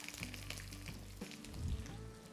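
Sliced medium onions fry in hot homemade ghee with cardamom, cinnamon and cloves for a Calicut veg biryani, giving a soft, steady crackling sizzle that stays faint and continuous, with no voices.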